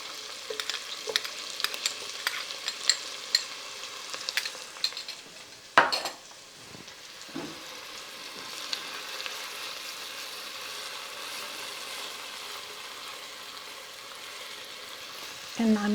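Garlic frying in a pan for beef stroganoff soup, a steady close sizzle with utensil scrapes and stirring clatter near the start, then a settled continuous frying hiss.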